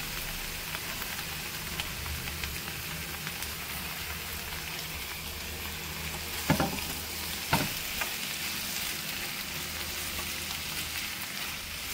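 Finely chopped tomatoes fry in a pan for a mushroom curry, a steady close sizzle and crackle like light rain, with two sharper clinks of a spatula against the pan midway.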